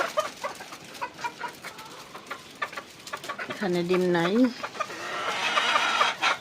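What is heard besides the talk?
chickens clucking in a coop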